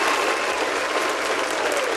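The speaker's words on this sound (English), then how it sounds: "Round of applause to everyone." A crowd claps steadily and loudly, dense applause filling the whole moment without pause.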